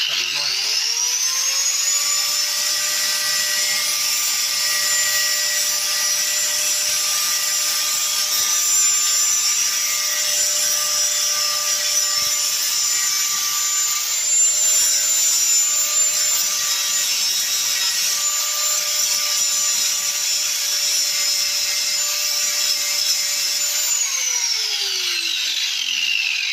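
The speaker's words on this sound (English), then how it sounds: "I'm just going to grind along this bit here," An angle grinder bears steadily on a rusty Ransomes Ace MK2 mower part clamped in a vise, giving one continuous, loud, high whine that holds for about 24 seconds before spinning down.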